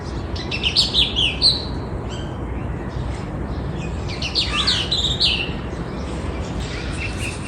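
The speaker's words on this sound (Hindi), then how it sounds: "इतनी मुझे प्यारी लग रही थी चिड़िया बोलती हुई माशाल्लाह।" Birds chirping in the morning outdoors, with bursts of bright twittering tweets near the start and again around the middle over a steady background hiss.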